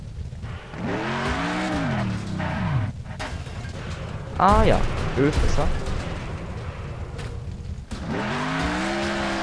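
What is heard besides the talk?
car driving and skidding in Next Car Game, a video game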